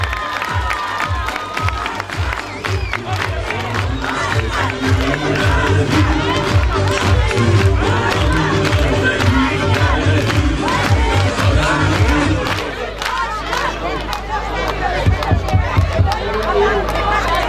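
Loud crowd cheering and shouting at a Turkish political rally in Antakya, Hatay, a dense continuous roar with rhythmic chanting, easing briefly near the end before swelling again.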